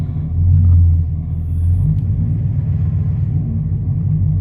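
A 2017 Camaro SS fitted with an MSD intake manifold rumbles close by, swelling under light throttle blips then settling into a steady deep idle, loud with no talk.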